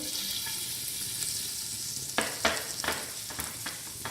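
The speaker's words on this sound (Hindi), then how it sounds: "यहाँ पैन में मैंने ये देसी घी डाल दिया। अब मैं इसके अंदर डालूँगी ये जो मैंने चॉप की हुई ये जिंजर है" Chopped ginger frying in desi ghee in a pan, heard close as a steady hiss, with a few sharper spatters and stirring clicks in the last couple of seconds.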